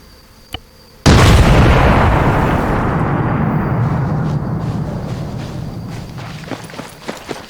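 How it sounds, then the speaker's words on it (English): Demolition charge blowing against a base wall in ArmA 3, a sudden massive close blast after a faint click, its roar decaying slowly over several seconds, followed by a few faint taps. "you want to see the charge go off"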